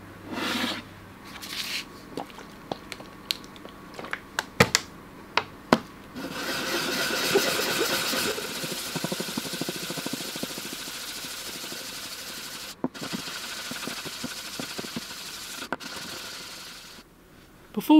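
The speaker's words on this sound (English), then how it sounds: "Now I just got to sand and polish it." Sanding and polishing of an epoxy resin casting: scattered rubbing and rasping strokes at first, then a steady abrasive whir of a powered sander or polisher running for about ten seconds, close and moderately loud, briefly stopping before finishing.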